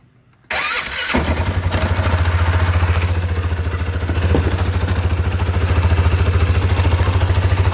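Polaris Sportsman 550 EFI ATV engine cranks briefly, then catches and settles into a loud, steady, throbbing idle close by, running without talk.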